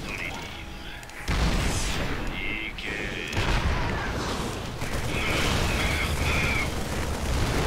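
Tank cannon fire at a turret in StarCraft II, heard as a dense, continuous barrage of booming blasts and rumbling explosions that jumps louder after the first second and stays heavy throughout.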